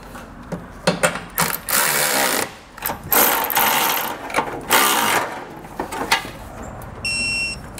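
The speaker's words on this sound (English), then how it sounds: "we'll go ahead and snug up all of those factory nuts and then torque them to the specifications in your instructions" A ratchet snugs up factory nuts on a Curt trailer hitch receiver under a 2016 Mercedes-Benz GLA, giving close bursts of clicking with brief pauses and a short high electronic beep near the end.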